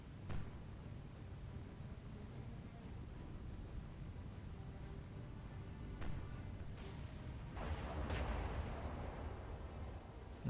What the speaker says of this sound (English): battleship shells incoming on Fubuki